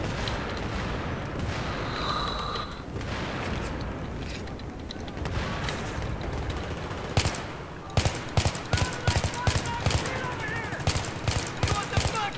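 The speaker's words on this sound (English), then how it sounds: "Oh, that grenade almost hit." Battlefield 3 combat with a grenade blast among rattling automatic gunfire, steady firefight noise followed by a run of loud, sharp shots cracking out one after another near the end.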